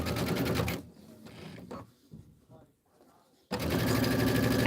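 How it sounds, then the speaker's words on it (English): A sewing machine back-stitches on a Kimberbell County Blooms pillow, its dense motor hum and rapid needle rattle loud at the start, then stopping for a quiet gap with faint clicks before the machine runs loud again. A voice talks over it. "I'm going to back stitch right here."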